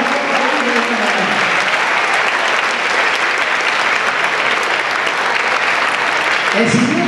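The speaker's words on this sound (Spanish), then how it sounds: "Un aplauso para ellos," A large audience at a Honduran didactic music concert claps steadily for the teachers, a loud, sustained wash of applause, with a voice briefly coming through near the end.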